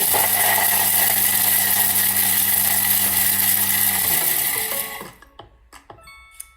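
A Thermomix TM7 blends an immunity-boosting drink at speed 8, a loud, steady motor whir with a constant pitch that runs for about four seconds, then winds down and stops, leaving a few small clicks and knocks.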